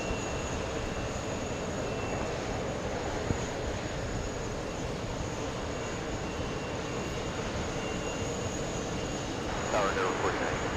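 Swiss airliner landing and slowing, then turning off the runway at JFK airport, a steady broad jet engine roar at moderate distance that holds constant throughout, with a slight rise near the end.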